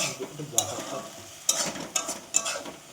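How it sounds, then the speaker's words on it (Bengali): Chicken meat, pre-coated in butter and white oil, frying in a pan for chicken pizza, with a steady close sizzle and four sharp scrapes and clinks as it is stirred. "এটা ভালো করে এবার ভেজে নিতে হবে এটা চিকেন পিজার জন্য আমি মাংসটা ভালো করে করে নিচ্ছি"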